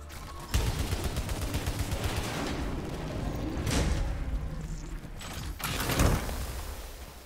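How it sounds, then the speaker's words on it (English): Gunfire from a gun in the video game Returnal, rapid dense bursts with mechanical clatter running through most of the stretch and two sharper, louder blasts near the middle and end. "I'm not a fan of this gun."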